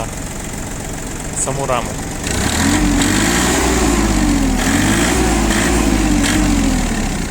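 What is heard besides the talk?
Iseki mini tractor engine running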